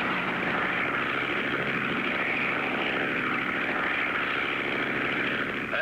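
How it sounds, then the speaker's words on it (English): Propeller airplane coming in to land, a steady, loud droning engine roar that holds evenly throughout without pause. "We're coming in for a landing."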